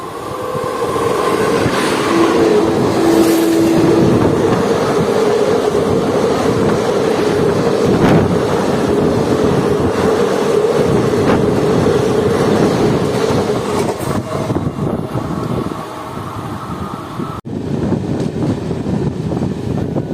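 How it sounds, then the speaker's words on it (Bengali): A loud, continuous train roar with rattling wheels and rushing air, as a superfast express thunders close by for a long stretch, overtaking a Bardhaman–Asansol MEMU train. "হাওড়া থেকে শিউলি হুল সুপারফাস্ট এক্সপ্রেস আমাদের ট্রেনকে ওভারটেক করে কী করে যাচ্ছে"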